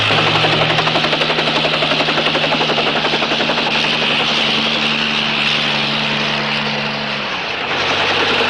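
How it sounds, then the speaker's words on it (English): A chopper close by, its steady engine whine and rapid rotor chop loud and continuous, with a brief dip in intensity near the end before it settles again. "Take him back in the chopper."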